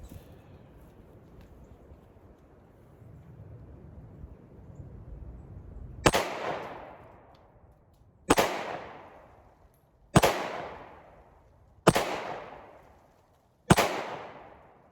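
Five sharp, loud pistol shots ring out from a PSA Dagger fired with a 15-round magazine outdoors in the cold, spaced roughly two seconds apart, each followed by a short echoing decay after a quiet lead-in.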